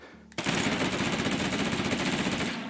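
Rapid, continuous gunfire from akimbo FiveSeven pistols in the VR shooter H3VR, a loud sustained stream of shots that starts abruptly and runs without pause.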